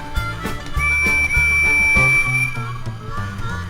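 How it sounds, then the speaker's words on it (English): A Lionel Percy O gauge toy train whistle sounds one sustained high tone for a couple of seconds over a steady rhythmic chugging beat. "First, his whistle."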